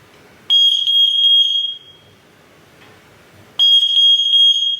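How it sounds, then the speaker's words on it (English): A smoke alarm sounds two loud, piercing bursts of rapid high-pitched beeping, separated by a few seconds of quiet. "Test the alarm."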